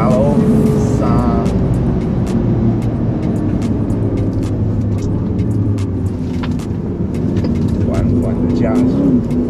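An Aston Martin accelerates hard on the Shanghai race circuit with its tail stepping out, its engine droning loudly and steadily throughout while someone talks over it.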